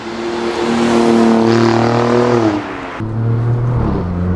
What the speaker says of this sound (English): The twin turbo kicks in like a Jackie Chan karate kick.